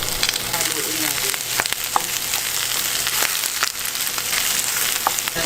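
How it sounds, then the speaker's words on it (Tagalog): Garlic and onion sauté in rendered pork fat for a pork sinigang, giving a steady close sizzle with scattered crackles and brief stirring scrapes throughout, with no talking. "sunod na natin yung bawang kasi meron na siyang sariling mantika"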